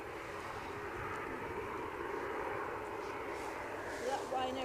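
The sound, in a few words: Ryanair airliner from Dublin at Edinburgh Airport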